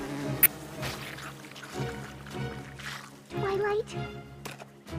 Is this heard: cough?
no